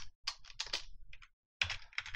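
Code is typed on a computer keyboard in quick, close clusters of soft key clicks, with a short pause before another flurry of keystrokes.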